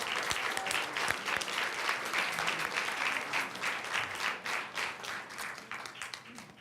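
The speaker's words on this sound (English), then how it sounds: "Let's show our appreciation and give Holly another round of applause." Audience clapping fills the room at a school board meeting honoring employees, brisk and sustained, gradually thinning and fading toward the end.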